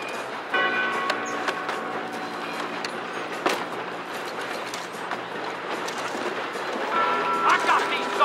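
A moving train in Red Dead Redemption 2, a steady rumbling roll with repeated clicking and clanking from the cars, heard continuously beneath ongoing voices.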